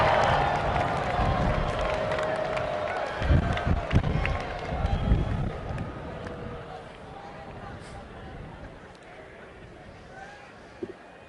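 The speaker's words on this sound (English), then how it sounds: "stand up and wave and cheer your supportive family and friends" Graduates at a university of Michigan commencement ceremony cheer and applaud toward their families in the stands, a broad, loud crowd roar with clapping that swells in the middle and then fades to a lower murmur.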